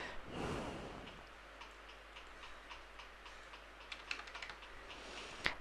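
Quiet clicking keystrokes on a computer keyboard while typing a name into Adobe Illustrator, irregular light taps building toward a brief burst near the end, after a soft breathy noise at the start.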